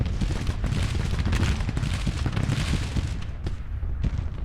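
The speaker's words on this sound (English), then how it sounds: "still have artillery firing on us over here, and we're taking some casualties from that" Artillery fire in the Civil War strategy game Grand Tactician: a dense, rumbling barrage of booms and distant gunfire rolls continuously, with occasional sharper cracks standing out near the end.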